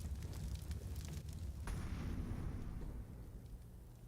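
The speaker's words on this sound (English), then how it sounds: "Nades and flashes" Grenades and flashbangs going off in Counter-Strike during a competitive match, a dense, loud rumbling roar of blasts with a sharper crack midway, sustained and fading slowly, with no talk.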